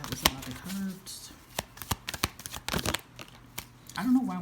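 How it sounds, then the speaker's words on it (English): Tarot cards are shuffled by hand in a run of quick, crisp riffles and slaps, close and uneven, with brief soft vocal sounds between them. "I'm going to shuffle that again because that was a lot of cards."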